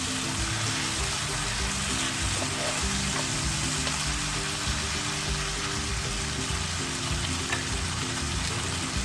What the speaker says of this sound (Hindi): इसे अच्छी तरह से मिक्स करें जब तक ये टमाटर सॉफ्ट ना हो जाए